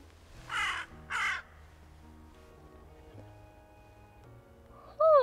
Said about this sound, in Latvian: Tā ir vārna.